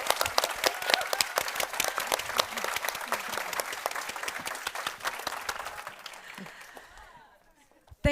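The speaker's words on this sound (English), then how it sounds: "Give them a round of applause." Dense, steady applause from a conference audience thanking a panel at the Nordic Female Investor Meetup 2021, rising quickly and holding for several seconds before thinning and fading out near the end.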